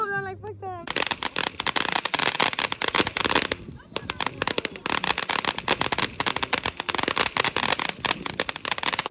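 Fourth of July firecrackers crackle and pop in dense, rapid bursts close by, a near-continuous rattling barrage with a brief lull, while people shout and talk over it.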